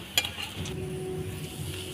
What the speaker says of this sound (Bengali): আমরা অল্প পরিমাণ তেল দিয়ে এটাকে ভাজছি